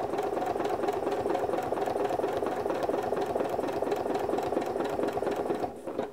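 A sewing machine stitches a quilt along a ruler, a rapid, steady, close mechanical chatter that runs evenly and then slows and stops just before the end.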